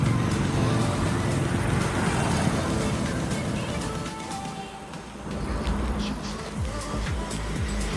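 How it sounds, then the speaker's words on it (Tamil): Road traffic heard on a morning group bicycle ride, a continuous loud low rumble of a vehicle on the road that dips briefly and then swells again as it nears, with faint voices mixed in. "வண்டி வருது."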